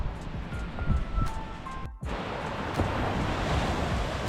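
Sea waves wash continuously onto Topsail beach on Florida's Emerald Coast, a steady, close hiss of surf mixed with wind buffeting the microphone.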